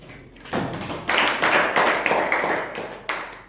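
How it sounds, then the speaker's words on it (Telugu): A classroom of students applauding together, a dense burst of clapping that starts abruptly, swells in several waves and carries on steadily at close range, fairly loud with no talking over it. "Okay claps."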